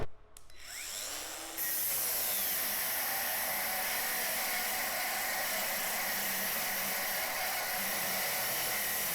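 Parkside Performance brushless cordless angle grinder cutting, spinning up after a brief start and then holding a loud, steady high-pitched whine and hiss through the rest, with no talk.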